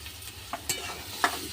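Chopped tomatoes and spice paste are stirred in a hot pan, a low sizzle broken by a few sharp scraping and clacking strokes of the spoon.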